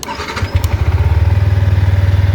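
A cold motorcycle engine, a 125cc naked bike, cranks and catches, then settles into a loud, steady, rapid idle thump close by.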